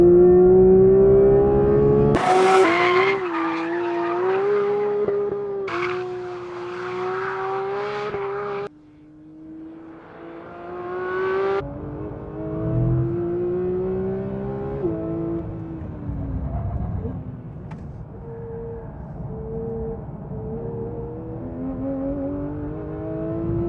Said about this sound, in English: Anybody that says this engine doesn't sound good, they need to be sitting where I'm sitting